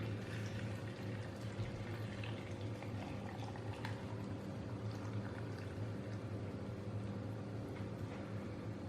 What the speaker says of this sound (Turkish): Her ikisine de ağzına kadar dolduruyorum kaynar suyumu.